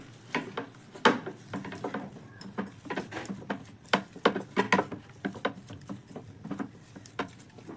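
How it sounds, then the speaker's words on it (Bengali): A spatula scrapes and stirs soaked, softened semolina in a pan, making soft, irregular wet taps and scrapes in close, quiet bursts. "এবার খুব ভালোভাবে আমি আবারও একটু স্প্যাচুলা দিয়ে মিশিয়ে নেব।"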